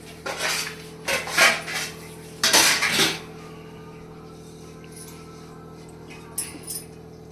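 Metal dishes and cutlery clatter in several sharp bursts as a cooking pot is handled and covered with its lid, followed by quieter faint clinks against a steady background hum.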